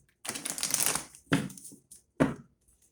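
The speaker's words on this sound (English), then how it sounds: "Last shuffle" Tarot cards being shuffled close up: a long riffle followed by two short, crisp shuffling bursts, with silence between.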